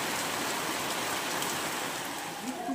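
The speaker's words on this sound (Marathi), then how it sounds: "हा बघा केवढा जोरात पाऊस आला बघा." Heavy rain pours down steadily in a dense, continuous hiss and patter, loud and close throughout with no voices.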